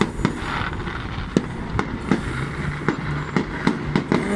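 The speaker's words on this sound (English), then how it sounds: "So we're watching the fireworks, aren't we, Kobe?" Fireworks exploding over a fairground with a big wheel and rides, a steady stream of sharp bangs and pops at irregular intervals over a constant crowd and ambient rumble.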